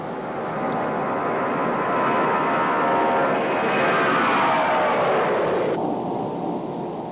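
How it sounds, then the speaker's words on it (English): A Lockheed L-1011 TriStar jet airliner flies overhead, its broad engine roar swelling to a peak and then dropping in pitch as it passes. "The first TriStar for Cortline, dubbed Halcyon Days, took to the air for the very first time"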